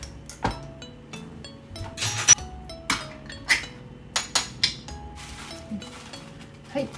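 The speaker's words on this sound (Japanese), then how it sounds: "油を切ってビニールの中に入れます" Tuna can being drained of its oil in a home kitchen while cooking, heard as a string of sharp metallic clinks and taps, close and fairly loud, scattered irregularly with no voices.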